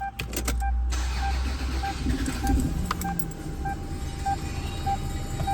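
A Toyota RAV4 with a swapped 3S-FE twin-coil engine cranks and catches, then settles into a steady idle, with a repeating electronic chime pinging throughout.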